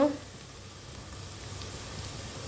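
Chopped onion hits hot oil in a pan, giving a steady, close hiss of sizzling that holds evenly throughout.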